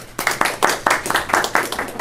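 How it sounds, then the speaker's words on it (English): Scattered hand claps ring out in a small boardroom after a board member's swearing-in, a brief, moderate round of applause from a modest group. "I guess that calls for a round of applause"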